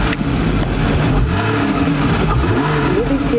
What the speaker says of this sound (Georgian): მინდა მოგასმენინოთ ამ ავტომობილის ხმაც.